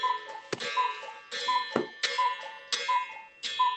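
A cuckoo clock used as a warning bell at a county board meeting, sounding in a regular series of ticking clicks and bright chiming tones, close and clear with no talk over it.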